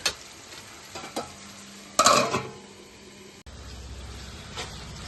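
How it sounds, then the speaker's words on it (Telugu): Onion and tomato pieces sizzle steadily in a hot pan for gongura chicken, broken by a few sharp scrapes and clanks as a utensil stirs them, close and clear with no talk. "ఉల్లిపాయ ముక్కల్లో మనం కట్ చేసి పెట్టుకున్న టమాటా ముక్కలు వేసుకుందాం"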